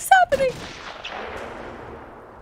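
Gunfire in Batman: Arkham Asylum: two or three sharp cracks close together, then a later shot, each trailing off in a long, fading echo, with a brief voice mixed in at the start.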